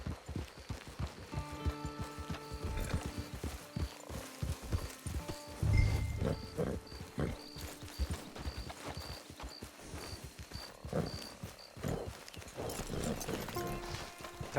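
A horse in Red Dead Redemption 2 clip-clops along in a steady walking rhythm, hooves close and clear over game ambience and music, with a brief snort or whinny partway through.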